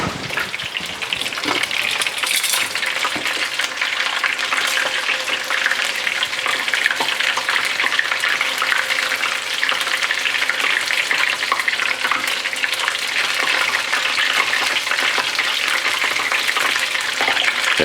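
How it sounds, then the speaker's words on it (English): Battered fish fries in hot oil in a mobile fryer, giving a steady, loud, dense sizzle and crackle that holds constant throughout with no talk. "this will be sort of three minutes or so in the hot oil"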